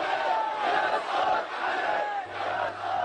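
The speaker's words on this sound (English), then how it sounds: "Massive crowds participated in a centralized peaceful march called for by Al-Diraz youth movement" A massive crowd of protesters at a peaceful march in Al-Diraz, Bahrain, roaring and chanting together in a continuous, dense wash of voices that stays loud throughout without pause.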